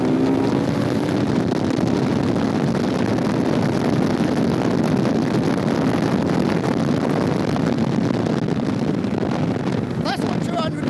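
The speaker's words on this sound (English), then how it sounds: "That's what 205 horsepower on a bike engine goes like." A 205 horsepower Suzuki Hayabusa Gen 2 engine powers an MK Sport 200 car on a test drive, roaring loud and continuous at high revs, blended with heavy wind rush.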